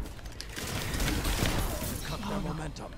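Battle rifle gunfire in a shooter video game, a dense run of shots under constant loud game noise and overlapping talk from players.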